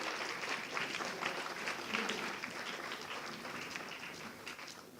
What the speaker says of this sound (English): they deserve really a very big applause